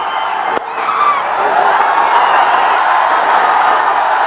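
A large cricket stadium crowd roars in a sustained, loud, continuous wash of cheering and shouting at a T20 match, with a brief sharp knock near the start.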